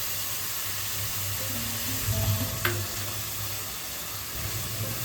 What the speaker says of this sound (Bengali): এবার আমি পেঁয়াজ বাটা দিয়ে দিচ্ছি।